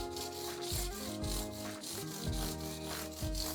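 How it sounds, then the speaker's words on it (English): Steady back-and-forth rasping of sandpaper on a wooden guitar neck, repeated strokes in an even rhythm, close and fairly loud. "you're sanding away from that finish"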